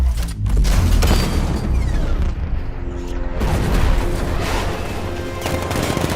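Heavy booming 60 mm cannon fire with rumbling blasts and mechanical clatter, loud and close, layered over a dense action soundtrack.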